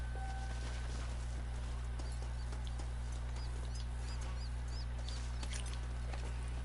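Horse hooves clip-clopping in Red Dead Redemption, a steady run of light rhythmic hoofbeats over a constant low hum, with faint chirpy game sounds and no voices.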